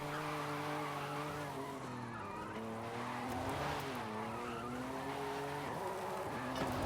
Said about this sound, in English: this is a very long drift zone